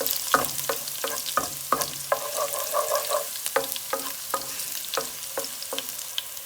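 Cumin seeds and garlic frying in hot oil for a spicy eggplant sabzi, a close crackling sizzle punctuated by regular sharp stirring clicks of a spoon on the pan, with no voices.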